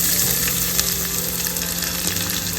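Chana dal and red onions sauté in a hot pan, giving a steady, close, loud sizzle and crackle of frying with no voices.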